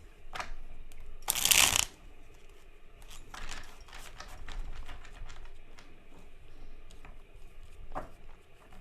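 A quick, crisp riffle of playing cards being shuffled, loud and close, followed by lighter card handling and soft rustling.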